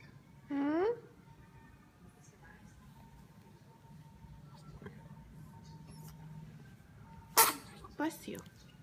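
A baby gives a single quick, high sneeze early on, followed by quiet room tone and a few later sharp vocal sounds; no talk is heard during the sneeze.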